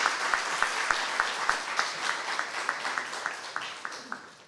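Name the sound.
audience applause for the judges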